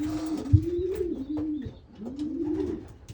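High-priced racing pigeons in a loft give a few close, low, bubbling coos in a row, alone without talking.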